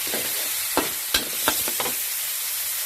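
Minced pork, beans and Thai pork roll are stir-fried in a pan: a constant loud sizzle with several scraping strokes of the spatula, close up, and no talking.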